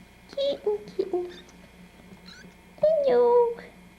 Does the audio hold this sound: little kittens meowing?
yes